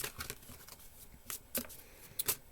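Faint, close shuffling of a deck of tarot cards, soft papery riffles and flicks in a few brief bursts over a quiet background.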